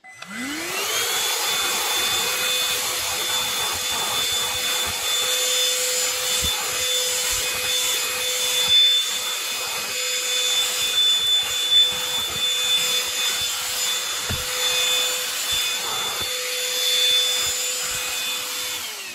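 A handheld vacuum cleaner spins up and runs steadily with a textile brush over a car seat, a high motor whine with a constant tone and rough rubbing scratches of the bristles against fabric.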